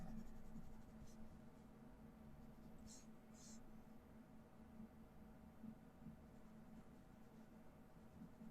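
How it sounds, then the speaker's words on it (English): B grade pencil lightly shading shadows on paper for a portrait of a mouth: a soft, continuous scratchy rustle of graphite strokes, very faint and close, over a low background hum. "I'm also going to just start to lightly block in the shadows with the B"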